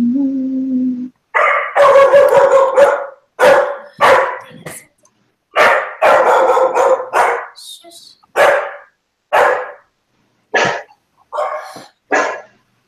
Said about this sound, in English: my dog is barking at your dog